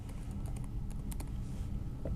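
Keys tapped on a computer keyboard while a stage name is entered in recruitment software, a short run of light, irregular clicks over a steady low hum, with no talking.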